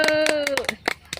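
A few hands clap in short irregular bursts among a small audience at a Sundanese comedy fashion-show rehearsal, the claps separate and close, with a voice speaking over the start.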